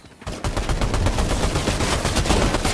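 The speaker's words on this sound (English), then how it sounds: "The mythic pump shotgun only though." Rapid bursts of gunfire from a mythic pump shotgun in a video game, a dense run of sharp, loud shots fired back to back after a brief quiet start.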